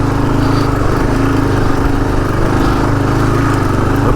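A Gen 3 Kawasaki KLR motorcycle engine chugs steadily as the bike rides slowly through sand, a loud, close, unbroken low throb with no talking over it.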